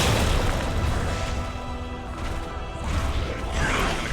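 A grenade explodes in the Resident Evil 2 remake, a deep booming blast that sustains as a rumbling roar with a second swell near the end, loud and close, no speech.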